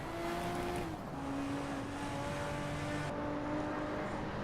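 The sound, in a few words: Toyota Supra race car driving in a Hot Wheels video game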